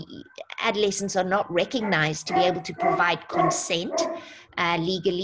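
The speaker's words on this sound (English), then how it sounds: "sorry about the dog in the background" A dog barks in the background, indoors and slightly distant, while someone speaks continuously in the foreground and mostly covers it.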